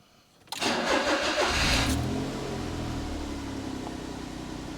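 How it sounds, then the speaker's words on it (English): A 2008 Smart Fortwo 1.0 petrol engine cranks over and catches, roaring up briefly before settling into a steady, close idle. "I'll start the car up."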